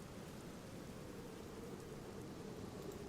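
Steady rain falls in the Black Mirror adventure game, a quiet, even hiss of drops with no breaks or other sounds.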